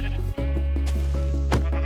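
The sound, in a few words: sheep bleating in the video game Minecraft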